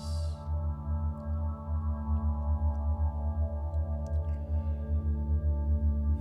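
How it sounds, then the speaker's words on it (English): Steady, low humming binaural tones for meditation drone continuously and softly, with a gentle pulsing swell and no voice over them. "Focusing your attention on the binaural tones."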